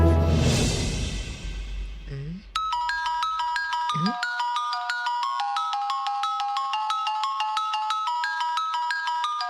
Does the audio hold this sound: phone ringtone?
yes